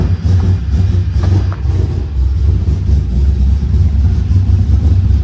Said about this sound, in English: in order to start it with the keyless, you press the brake and you press the start button